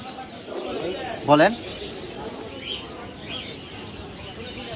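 Caged birds at a busy bird market, including lutino and ringneck parakeets, with a brief loud call rising over background chatter and crowd noise; people talk nearby.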